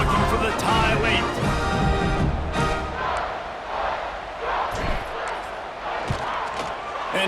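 Football stadium crowd roaring and cheering late in the fourth quarter as the home team ties the game and lines up to kick off, a loud sustained mass of voices with bursts of shouting and claps.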